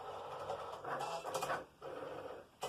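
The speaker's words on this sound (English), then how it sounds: "Hit your C on your Cricut machine" Cricut cutting machine cutting a vinyl design, a quiet whirring of the motor and carriage in several short bursts with brief pauses between them.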